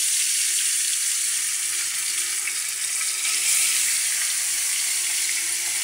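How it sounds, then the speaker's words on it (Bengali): Fish fry in oil that was heated for about ten minutes, giving a steady, bright, hissing sizzle that stays loud and even throughout with no talking. "তো আমি এখন মাছগুলারে দিয়ে দিচ্ছি।"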